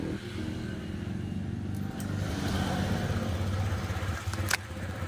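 A Honda Click 125 scooter engine runs steadily at close range, a continuous low hum with a slight rise partway through and a brief sharp click near the end.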